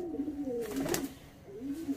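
Breeder pigeons give soft, low cooing calls close by, a couple of rolling coos with a brief pause between them, faint and alone.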